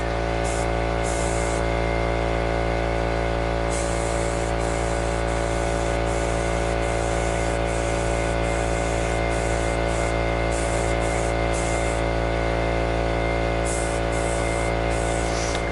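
Spray gun applying glossy brown paint thinned with paint thinner, giving a steady close hiss that runs throughout with brief pulses and pauses of the trigger.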